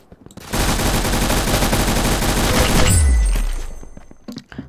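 Rapid automatic gunfire in the video game Arsenal blasts in one loud, dense burst lasting a couple of seconds, then cuts to a deep falling boom and a few scattered faint clicks.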